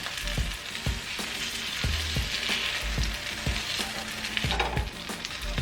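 Bánh xèo pancake frying in oil in a pan, with a constant close crackling sizzle and a series of soft regular clicks or taps underneath.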